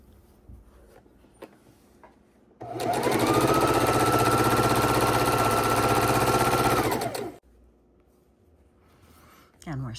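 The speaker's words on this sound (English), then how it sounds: "And we're sewing rows together" A sewing machine joins quilt rows with matched seams in one steady, loud, continuous whir lasting about five seconds, with quiet room sound before and after it.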